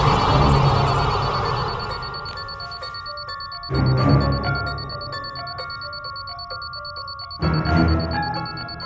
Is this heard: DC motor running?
no